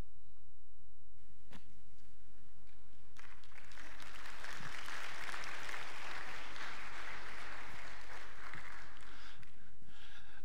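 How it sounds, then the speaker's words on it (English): An audience claps together, a sustained wash of applause that swells after a brief quiet start and carries on steadily to the end, with no speech over it. "I noticed you hesitantly clap there."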